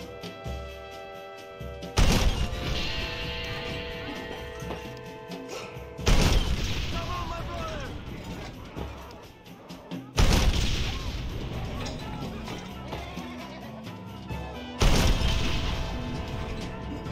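Fort cannon fired in the Red Dead Redemption video game, four heavy booms spaced about four seconds apart, each followed by rumbling debris and gunfire, with game music underneath.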